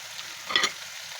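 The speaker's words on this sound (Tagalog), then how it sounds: "halu-haluin lang natin yan" Shrimp and spices sizzle faintly in a hot pan, and a single brief scrape of a utensil stirring them stands out midway.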